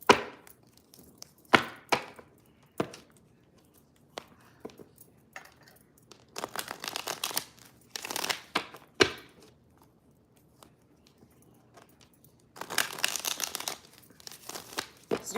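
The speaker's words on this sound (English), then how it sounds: "let me give this a quick shuffle." Quick bursts of papery riffling and soft slaps come in short bursts between pauses, close and fairly quiet, as a deck of tarot cards is shuffled and tapped.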